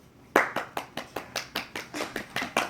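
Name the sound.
applause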